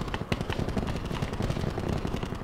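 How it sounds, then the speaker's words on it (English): A rapid burst of video game gunfire in Black Ops 4 Blackout rattles off in quick succession, dense and fairly close, with no voices over it. "Gunshots, where are those coming from? They're very close."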